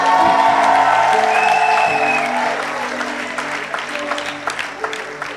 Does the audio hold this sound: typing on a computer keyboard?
no